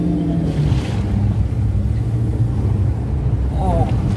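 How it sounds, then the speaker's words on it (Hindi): A car pushes through deep rain floodwater on a Jaipur street during the first monsoon downpour of 2021, giving a steady low rumble and churning water wash, with people talking over it throughout. "काफी ज्यादा पानी के अंदर से गाड़ी होते हुए गुजर रही है"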